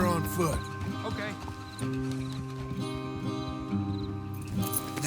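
Horses in Red Dead Redemption 2 give quick hoof clops and a snort or whinny beneath a loud sustained musical score, with talking over the scene.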